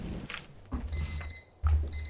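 A video game alarm clock goes off in bursts of bright, high electronic beeping, interrupted by soft thuds and low rumbling in between, fairly close and moderately loud.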